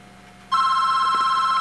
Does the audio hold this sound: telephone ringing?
yes